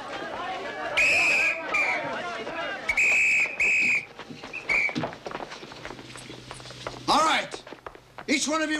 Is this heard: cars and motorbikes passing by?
no